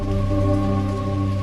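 Steady rain falls evenly across a surface, a dense continuous patter with a low rumbling undertone, moderately loud and unbroken, with no voices.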